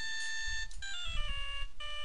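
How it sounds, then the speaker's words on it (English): A cell phone ringtone in the Phoenix Wright video game, a bright electronic melody of stepped tones repeating, fairly loud and alone. "All of a sudden, the phone began to ring."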